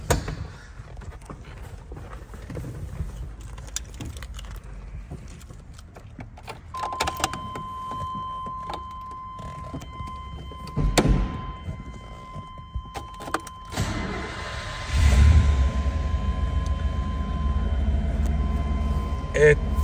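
A 1997 GMC Sierra 1500 with a 5.7L V8 and manual gearbox: keys rattle and a steady door chime sounds before the engine cranks and settles into a loud, even idle up close.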